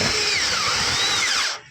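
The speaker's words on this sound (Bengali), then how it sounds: "স্ক্রুটাকে নিয়ে স্ক্রু মেশিনটা এরকম মারতে হয়" A screw machine drives a big screw into a steel roof truss with a loud, close, high whine that rises and falls in pitch, then cuts off abruptly at the end.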